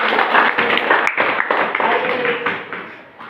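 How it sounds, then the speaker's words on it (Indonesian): A group of students in a classroom claps their hands together in a short burst of fairly close, busy clapping that tapers off after a few seconds. "Oke, kita tepuk tangan."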